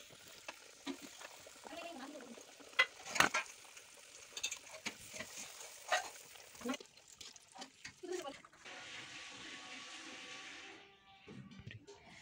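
Sweet rice-flour dough fries in oil over a low flame for a Chhattisgarh-style dessert, a soft, steady sizzle with occasional stirring clinks and splashes.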